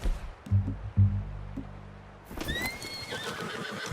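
Horse in Red Dead Redemption 2 neighs twice in loud, close whinnies with hoof clip-clop beneath, followed by a quieter stretch of rustling and movement.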